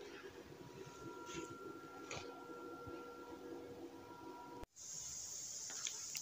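Arc welding of a metal chassis, a steady crackling hiss with faint ticks, ending in a brief cutoff before a brighter sizzle resumes.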